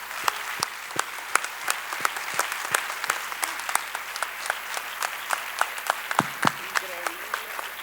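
Applause from an audience at a talk on childhood, adolescence and gender violence, a sparse, uneven patter of separate claps lasting about eight seconds, fairly distant, with faint voices underneath.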